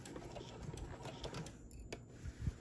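A sewing machine stitches a faux leather zipper pouch, running steadily and fairly quietly with a continuous mechanical whir and faint ticking throughout.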